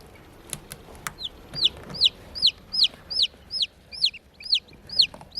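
A mother hen clucks softly near chicks that have just hatched, while a chick cheeps high, falling peeps in a steady repeating rhythm, close and clear, after a few early clicks.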